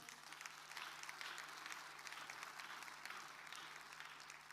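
Applause from a public audience for a man named Tato after a public apology, steady dense clapping sustained throughout at moderate distance with a faint hum underneath.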